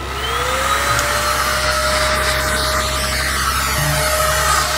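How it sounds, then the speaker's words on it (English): A vacuum cleaner runs steadily at close range aboard a space station, a loud continuous whine with a rising tone as the motor spins up, with no voices. "Switch the vacuum cleaner on."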